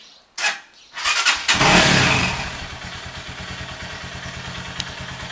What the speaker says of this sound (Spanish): tratar de arrancar la moto para ver cómo se comporta el motor con esta nueva gasolina.